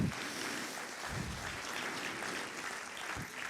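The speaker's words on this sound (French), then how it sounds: "Je vous demande de l'applaudir très fort" Audience applause for a jury member at a CJD Val d'Oise business gathering, a steady dense wash of clapping filling the room for several seconds without pause.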